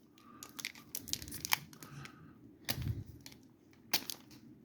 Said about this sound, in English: So I have to go get the scissors on the very first pack.